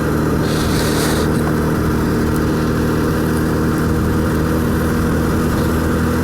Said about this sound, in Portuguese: Dá para ouvir o barulho do motor e só.